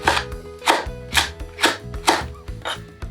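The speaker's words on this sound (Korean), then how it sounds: "홍고추두 개를 씨를 빼고 이렇게 준비했습니다. 이것도 쫑쫑 썰어주세요." A knife finely chops seeded red chili peppers on a cutting board for stonecrop water kimchi, giving about six sharp, evenly spaced strokes, close and clear with no talk.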